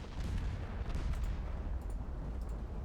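Heavy naval battleship gunfire from the game Ultimate Admiral: Dreadnoughts, a dense, continuous low rumble of booming cannon salvos with sharper reports scattered through, loud and sustained with no pauses.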